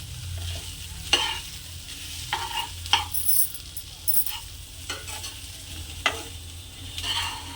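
Puffed rice mixed with other ingredients frying in a pan: a soft, fairly quiet sizzle under repeated dry scraping and tossing strokes of a spoon, spaced every second or so.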